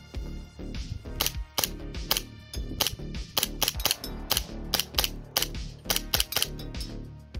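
A Tokyo Marui Hi Capa airsoft pistol fitted with a short stroke kit and loaded with 0.25 gram BBs fires a run of sharp, snappy clacks at an uneven pace, with mechanical clicking between shots at close range.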